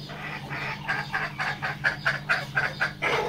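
Chickens clucking in a rapid, rhythmic series of short calls, fairly close, over a steady low hum at a poultry chick seller's place.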